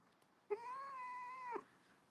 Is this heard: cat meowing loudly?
yes